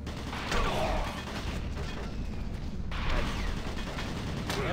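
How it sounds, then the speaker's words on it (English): Automated turret guns fire in the video game Doom 3: a loud, dense, continuous rattle of gunfire with crashing blasts, briefly easing in the middle before surging again. "Automated turret guns online."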